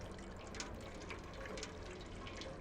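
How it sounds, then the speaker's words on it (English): Cat lapping water from a small pan in the game Stray, a steady soft watery patter with light splashy flicks, continuous and close, no talking. "Alright, so we've drank some water that was just sitting out"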